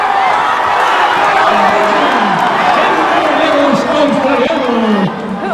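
A loud, dense crowd roars and cheers at a Mexican lucha libre wrestling match, continuous shouting and whoops close by with voices woven through the noise.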